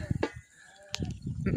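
Sheep bleating near a rural goat and sheep shepherd's pen in Nepal, two short bleats early and late, heard over a person talking and general outdoor noise.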